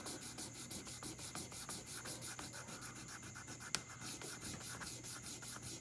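The frets of a Fender Stratocaster are buffed with polishing rouge, making a soft, steady rubbing with an even back-and-forth rhythm and one small click. The sound is close but quiet, with no voices.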